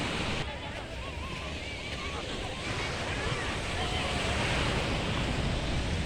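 Surf washes steadily onto a beach shore near a village where friends play volleyball on the sand, a continuous broadband roar with wind buffeting the microphone and faint voices mixed in.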